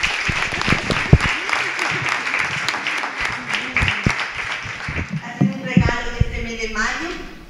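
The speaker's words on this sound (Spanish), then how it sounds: "un aplauso para empezar para la Koni" An audience at a human rights defenders talk gives a round of applause, with scattered claps at first and steady clapping under ongoing speech, before a voice takes over near the end.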